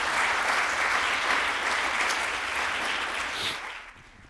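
Sustained applause from a lecture audience for a professor after a talk on globalization and inequality, a dense steady wash of clapping that fades out near the end.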